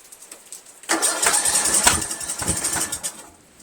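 A Briggs 17.5HP engine on a Craftsman lawn tractor cranks loudly without catching, a rapid churning starter whir lasting a couple of seconds before trailing off.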